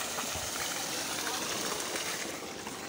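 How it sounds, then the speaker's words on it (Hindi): Water gushes steadily from the outlet of a 5hp solar tube well pump into a tank and overflows, giving a continuous broad rushing hiss with no clear talk. "ये पानी है, ये हौदी से बाहर जा रहा है माशाल्लाह पानी"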